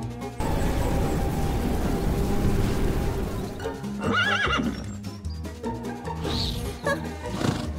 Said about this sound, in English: Especially the radiant unicorn created by Selena, a purebred wizard